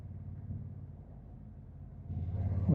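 A large lorry passes on the road as a deep, steady rumble that swells louder near the end, with no voices.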